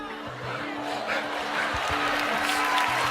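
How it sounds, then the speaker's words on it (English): Studio audience clapping and murmuring, a broad sustained wash of applause with crowd noise and faint laughter, steady throughout and gradually swelling. "Now, everyone's smiling and clapping except for Mel B."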